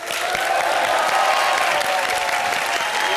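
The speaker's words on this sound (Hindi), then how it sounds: "जोरदार तालियों के साथ स्वागत कीजिए मुबीन और अनीता का।" A studio audience at a Hindi TV comedy show claps loudly and steadily to welcome guests, a dense, continuous wash of applause with a few cheers mixed in.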